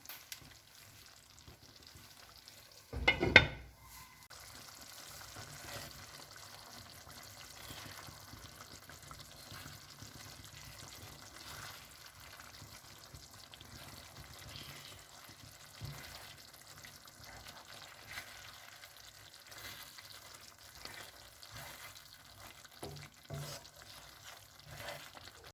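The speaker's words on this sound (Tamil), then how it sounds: "இந்த மீன் இப்போ ஒரு 4 மினிட்ஸ் வேகட்டும்" Fish kuzhambu, a medicinal meen marunthu curry, simmering under a lid in a pan, giving a steady low bubbling sizzle that runs on alone, with one sharp knock early on.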